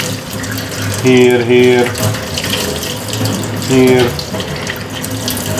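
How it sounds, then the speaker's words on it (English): Water runs through a Nivona coffee machine during maintenance with a steady rushing flow, joined twice by a brief humming whine, while a voice speaks briefly. "Just run water through it."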